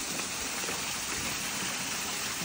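Water from a small natural waterfall in the grounds of Kinkakuji temple in Kyoto makes a soft, even hiss of falling water, faint and unbroken, with no voices.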